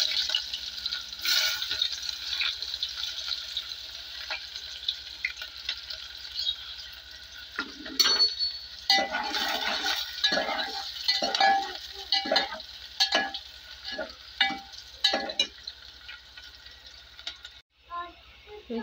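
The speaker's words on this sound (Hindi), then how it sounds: "तेल गरम हो गया, हम इसमें प्याज डालेंगे।" Onions frying in hot oil for an eggplant and potato dish make a soft, continuous sizzle, then a spoon starts stirring and scraping the pan in irregular close strokes.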